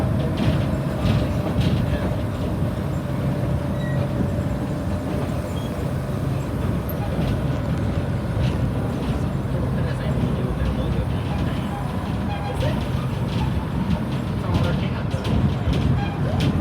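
A Colorado Railroad Museum excursion train rumbles and grinds slowly and steadily up a 4% grade, with a low engine drone and occasional metallic squeals, continuous throughout without speech.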